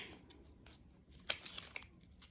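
A pack of We're Not Really Strangers self-awareness cards being opened, with close, soft tearing and crinkling of packaging in a few short bursts against a quiet room.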